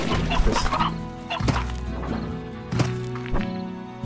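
Hens in Slime Rancher cluck repeatedly at close range, mixed with a few sharp thwacking hits and soft background game sounds.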